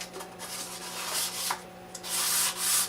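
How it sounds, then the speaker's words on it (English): Hand sanding of a finish coat on wood to knock off nubs gives a steady series of raspy back-and-forth rubbing strokes, close and fairly loud, with no talking. "I'll do a little sanding on it."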